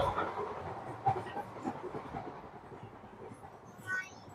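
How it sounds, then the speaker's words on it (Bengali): Moving train carriages rattle and shake in steady, continuous low rumble with faint clickety-clack, heard from inside a car at moderate, fairly quiet level with no talk. "আর এই ট্রেনটা অনেক বেশি কাঁপতেছে"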